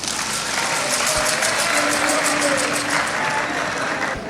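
A large audience claps and cheers for the President of the Republic, Mamadi Doumbouya, at a cultural event in Guinea. The dense, steady applause is loud and close and holds for the whole stretch.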